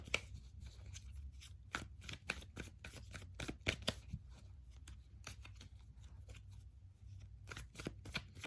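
Tarot cards being shuffled and drawn, a quiet run of rapid riffling flicks and soft card slaps repeating close up with no talking.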